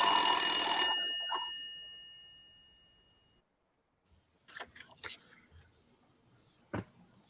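A telephone bell rings loudly once and fades out over about two seconds, followed by quiet and a few scattered clicks and faint noises.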